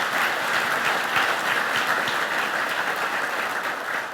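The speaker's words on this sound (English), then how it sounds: "give one more round of applause for those supporters" A crowd at a chamber of commerce healthcare awards event applauds steadily, many hands clapping in a dense, continuous wash that holds loud throughout.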